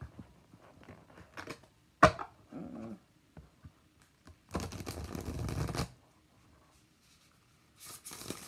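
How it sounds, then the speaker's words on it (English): A thick 400G cardstock tarot deck is shuffled once, with a few soft handling taps followed by a quick, close riffling burst, then a faint later rustle in an otherwise quiet room. "I'll do one really good shuffle with it."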